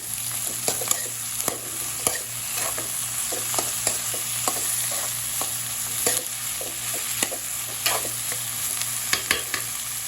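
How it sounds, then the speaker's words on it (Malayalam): Potato curry being stirred in a frying pan, a steady sizzle with a rapid series of scraping spoon strokes throughout, close and fairly loud with no talking. "ഇളക്കി കൊടുക്കാം."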